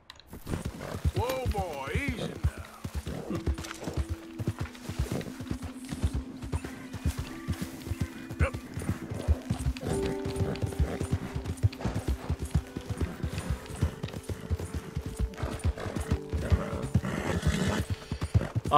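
A horse gallops in Red Dead Redemption 2 through a snowy winter map: rapid clip-clop hoofbeats run throughout with occasional snorts and whinnies, under someone talking and game music tones.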